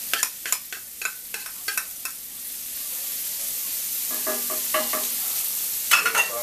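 Mushrooms and onions sauteing in butter, a steady background sizzle with bursts of quick clattering stirs at the start, middle and end, close by with no talking.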